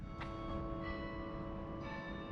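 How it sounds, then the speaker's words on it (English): A church bell in Luxembourg City rings with a long, resonant tone, and a second strike follows shortly after the first, sounding somewhat distant over faint outdoor ambience. "We can hear some church bells."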